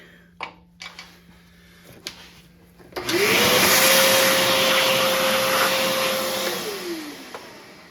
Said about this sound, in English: Just gonna vacuum this real quick.